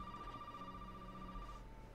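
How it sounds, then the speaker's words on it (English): A telephone rings in Resident Evil 7, a faint, thin electronic tone held steadily over a low ambient hum. "I did hear a phone"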